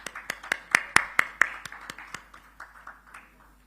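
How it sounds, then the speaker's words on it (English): An audience at a South India digital summit claps with crisp, rapid hand claps that peak early and then thin out into scattered, fading applause. "Let's invite each person with a big round of applause."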